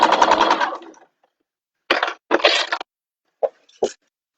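A sewing machine stitches down the middle of a fabric bag in a long, close, buzzing run, followed by a few short stop-start bursts separated by silence.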